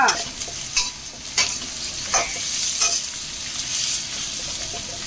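Food sizzles and fries as it is stirred in a pan. The steady hiss is broken by several sharp scraping strokes of the utensil at intervals, with no talking.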